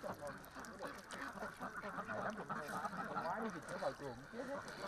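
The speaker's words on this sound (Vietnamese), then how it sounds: "Phía trên là bầy vịt trắng bơi lội" A flock of white Remo ducks on a fish pond quacking faintly and repeatedly in the distance, under a person talking.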